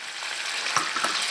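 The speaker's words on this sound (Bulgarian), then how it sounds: "малко да се капне олио, като се пържи масло, да не пригаря" Butter frying in a pan with a drop of oil added, giving a steady close sizzle with a few small pops and crackles throughout.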